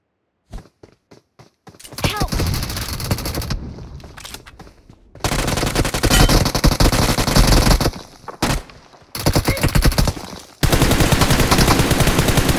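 Bursts of automatic gunfire from the mobile battle-royale game BGMI (Battlegrounds Mobile India): a few sharp isolated shots, then long sustained loud volleys broken by brief pauses, with no talking.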